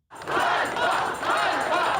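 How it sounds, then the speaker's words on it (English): A large protest crowd in Ukraine chants "shame" in unison, a loud, massed roar of voices rising and falling in rhythmic waves, heard from amid the gathering. "The crowds chanted shame in a rare public challenge of Zelensky's leadership"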